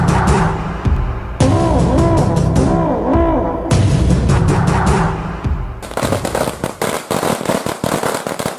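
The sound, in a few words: gunshot fired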